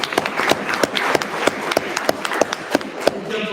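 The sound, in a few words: audience applause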